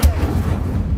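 The Incendio fire spell is cast in Hogwarts Legacy, giving one loud, close burst that opens sharply and then roars and rumbles briefly, like a fiery blast.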